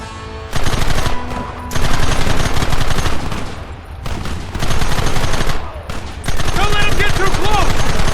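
Sustained gunfire in a Red Dead Redemption shootout at sandbag defences, with dense rapid volleys and machine-gun bursts running almost without break, loud and close, pausing only briefly between long strings of shots, shouting voices mixed in.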